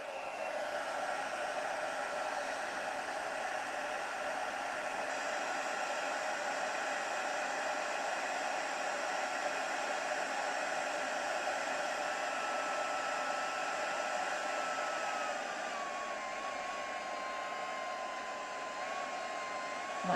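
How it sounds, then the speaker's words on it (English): A heat gun blows steadily and unbroken for a long stretch, a close, even whooshing hiss whose pitch wavers slightly toward the end. "My heat gun is going on strike."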